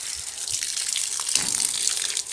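Water runs steadily from an open tap, a continuous close splashing gush with brief irregular spatters as something moves under the stream.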